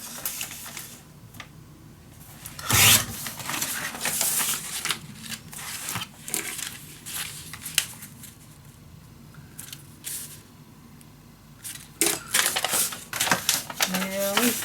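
Scissors snip through newspaper paper for a Butterfly Wishes mini album, a run of crisp, close cutting and rustling sounds with scattered paper handling, under occasional speech.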